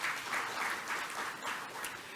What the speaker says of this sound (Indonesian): Keuangan, tepuk tangan semuanya.